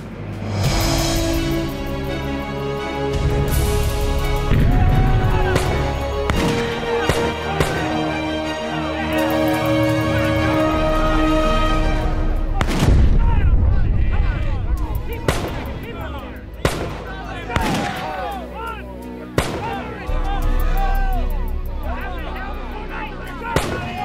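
Cannon fire from tall ships during a sea battle reenactment, a series of deep booming blasts at irregular intervals, some close and loud, others more distant, over wind, engine noise and someone talking.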